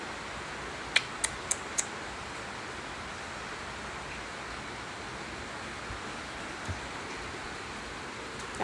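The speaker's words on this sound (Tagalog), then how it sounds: "Titingnan mo dyan yung ulan." Steady, even hiss of rain falls throughout, with a few sharp clicks near the start and a faint thump later.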